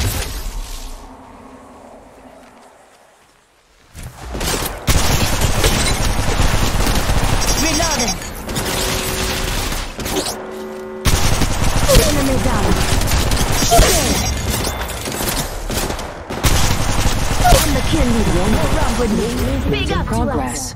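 Sustained automatic weapon fire in Apex Legends Mobile rattles in loud, continuous bursts after a brief quieter opening. Clattering impacts are layered through it, and occasional in-game voice callouts cut across the shooting.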